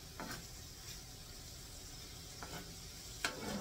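Breakfast sausage browning in a pan gives a faint, steady sizzling hiss, broken by a few soft stirring scrapes and a sharper tap near the end.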